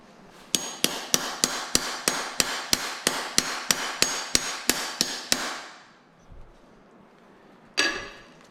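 A hammer pounds an engine part during engine resealing work, about sixteen sharp metallic blows in a steady fast rhythm, then a pause and one last hit.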